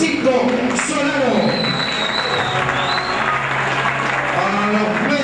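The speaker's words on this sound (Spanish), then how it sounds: "un fuerte aplauso a los bomberos voluntarios de San Francisco Solano" An audience applauds the volunteer firefighters at a boxing event, a dense, steady wash of clapping filling the hall, with a voice and tonal sounds carrying over it.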